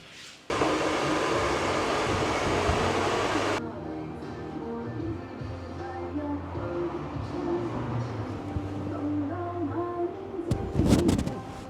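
A hair dryer drying hair after a haircut and wash blasts loud and steady for about three seconds, then switches off. Quieter background noise, a faint voice and a short burst of clatter follow.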